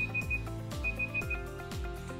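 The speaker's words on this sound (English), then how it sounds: "and the timer's up" A timer alarm sounds at the end of a five-minute anime drawing session: a steady, repeating electronic chime with a cycling melodic pattern about twice per second, moderately loud and with no talking.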